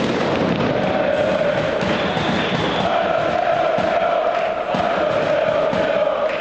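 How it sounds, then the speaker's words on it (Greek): Thousands of football supporters applauding AEL players and coaches at the club's first official training session of the 2016-17 season, a loud continuous crowd roar of clapping and cheering with scattered thuds and shouts. "Ένα θερμό χειροκρότημα επιφύλαξαν οι χιλιάδες φίλοι και οπαδοί των Βυσσινής"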